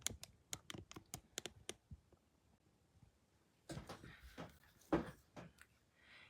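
Computer keyboard and mouse clicks: a quick run of sharp, close taps at first, then a busier cluster of typing and clicking after a pause, with faint room noise between.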